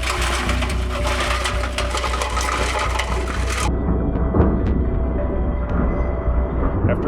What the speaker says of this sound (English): We've got the concrete mixer loaded up with granite rocks